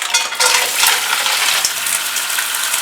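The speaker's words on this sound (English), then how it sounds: "You already hear it sizzling." Mussels sizzling in hot olive oil for a seafood cioppino, a steady loud hiss and crackle close up with a few light metallic clinks, no voices.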